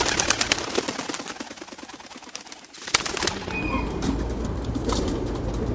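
Racing pigeons, including a crested African Black Eagle, coo and rustle in a loft, with steady dense chatter from many birds close by and a brief lull before the flock noise swells again.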